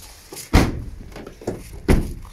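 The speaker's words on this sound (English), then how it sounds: "Side loading door as well." Sliding side loading door of a 2021 Ford Transit Connect 200 Limited Edition 1.5 TDCi van, heard as two loud heavy thuds with lighter rolling knocks between them, close up.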